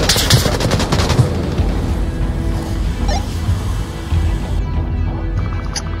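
Rapid gunfire in the VR shooter game Onward, loud and dense bursts of automatic fire overlapping in quick succession throughout, with a brief lull near the end.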